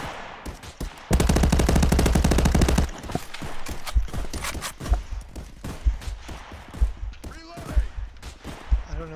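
A burst of rapid automatic gunfire from a VR shooter game, Contractors, in a downtown map, rattles loud and continuous for about two seconds, followed by scattered single shots, clicks and footsteps at closer range.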